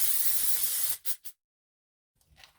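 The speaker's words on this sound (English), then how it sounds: "Let's spray the pan." Cooking spray hisses onto a pan in one steady burst lasting about a second, followed by two quick short spritzes, a pause, and a faint final puff.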